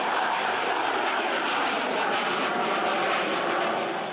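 Ukrainian military jets, two Su-27 fighters and an Il-76 transport, at the Royal International Air Tattoo 2017 air show, produce a loud, steady, continuous engine roar with no talking over it.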